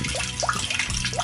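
A mini water pump pushes water into a container, giving a steady close gurgling, splashing flow with small bubbling pops throughout.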